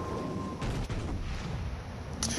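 Naval guns fire in a warship video game, with the secondary battery helping a cruiser. A few sharp, booming shots stand out over a constant rumbling battle din.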